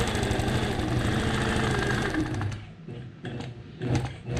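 A sewing machine runs steadily while stitching a quilt border, its fast mechanical hum continuous for a couple of seconds before breaking into a few short stop-and-start bursts.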